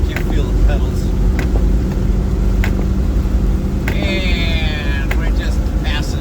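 A Land Rover Defender 110 with its center differential locked cruises at about 60 mph on gravel in the rain, heard from inside as a steady loud rumble of engine and road noise with occasional clicks and taps.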